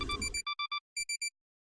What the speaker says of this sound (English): Kakuzu emitted an odd beeping noise.